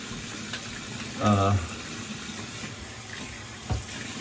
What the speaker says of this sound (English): And then what I'm gonna do, rinse this off.